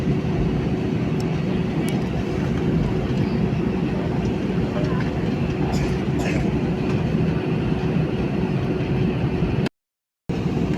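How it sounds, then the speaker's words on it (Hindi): Steady rumbling cabin noise of an Air India airliner rolling along the runway, a constant low roar with faint rattles, then a brief cut to silence near the end. "ये फ़्लाइट रनवे पे ही चल रही है।"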